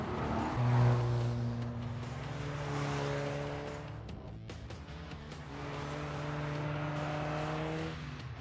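A car drifting around a narrow go-kart track in The Grand Tour Game: a sustained engine drone with steady revving harmonics and tire squeal, rising and holding, dipping briefly midway, then resuming, fairly loud and continuous.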